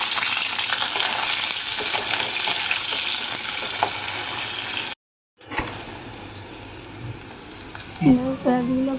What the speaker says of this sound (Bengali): পেঁয়াজগুলো একটু ভাজা ভাজা হয়েছে